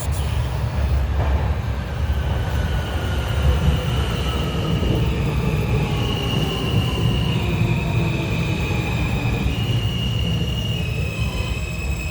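A New York F train, an R160 subway express, rumbles loudly and continuously through Roosevelt Island station, with shrill wheel squeals rising and shifting over the deep roar.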